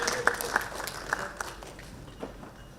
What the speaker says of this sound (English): a big round of applause from the audience